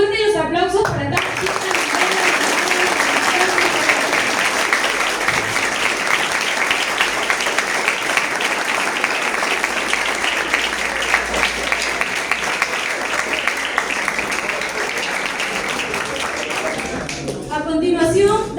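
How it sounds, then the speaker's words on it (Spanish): Loud sustained applause from an audience at a literary celebration, a dense wash of clapping that holds steady for most of the stretch and then tapers near the end. "Fuertes los aplausos para tal"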